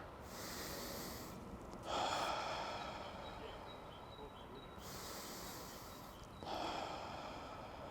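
Long slow exhales while running, two drawn-out breathy hisses each followed by a sharper intake, close and quiet.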